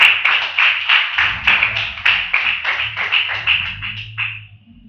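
A church congregation claps together in praise of Jesus, a dense burst of rhythmic hand claps at a steady beat, loud and close, with a low murmur of voices underneath, fading out near the end.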